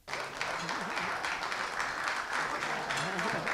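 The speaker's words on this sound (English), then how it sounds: "There's a priest over there applauding." A crowd applauds steadily and fairly close, with the clapping filling the whole few seconds while a voice speaks over it.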